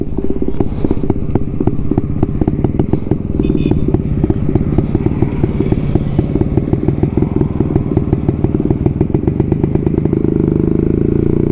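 A Jawa two-stroke motorcycle engine runs steadily and loudly nearby, with a rapid, crackling, popping exhaust beat throughout and no talk.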